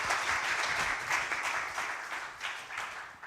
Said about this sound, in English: So you guys were just clapping your hands.